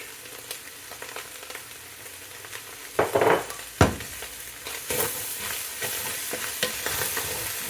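Chopped garlic hits browning meat for a shepherd's pie, setting off a loud steady sizzle in the pan, broken by sharp stirring scrapes and clatters as the mix is turned.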